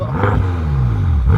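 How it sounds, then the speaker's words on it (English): A BMW M6 Coupe rated at 560 horsepower revs its engine, a close, loud climb in pitch that eases back down and rises again at the end. "Let's do a little rev time."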